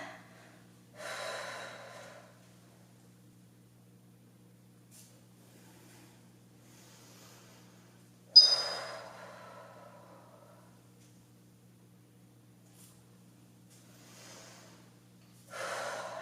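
Deep breaths drawn in during an overhead reach cool-down in an at-home core workout, three audible breathy inhales spaced several seconds apart, close and fairly soft over a faint steady hum.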